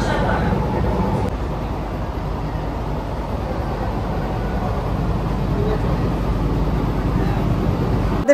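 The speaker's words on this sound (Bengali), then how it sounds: "ট্রেন এই মুহূর্তে এসে পৌঁছালো হচ্ছে কাঁচরাপাড়া।" An AC local train on the Sealdah to Ranaghat line in West Bengal, heard from inside the carriage as it nears Kanchrapara, makes a steady low rumble that holds at a moderate level from start to finish.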